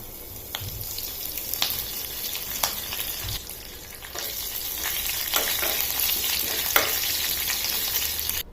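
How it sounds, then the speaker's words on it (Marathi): Mustard seeds, cumin, asafoetida and curry leaves crackle and sizzle in hot oil for a tempering, a continuous close frying hiss with scattered pops and stirring sounds, no voices over it. "अर्धा टीस्पून टाकते मोहरी मोहरी छान तडतडू द्यायची अर्धा टीस्पून जिरे अगदी थोडासा हिंग आणि शेवटी थोडा कढीपत्ता"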